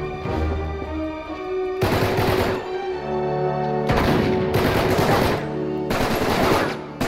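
Gunfire in the video game Uncharted 3, loud bursts of rapid automatic fire repeating in several long volleys, separated by short quieter gaps with game sounds.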